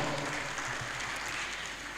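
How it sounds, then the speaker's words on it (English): Round of applause from an audience at an oath-taking and induction ceremony, a steady, soft wash of clapping heard from a distance for a couple of seconds. "A round of applause"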